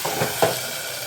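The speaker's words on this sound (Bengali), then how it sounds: "আর এই আদা বাটা টমেটো তেলে দিলে পরে তখন খুব ফোটে" Ginger paste and tomato sizzling in hot oil, a short steady hiss with a couple of small spatters, fairly close.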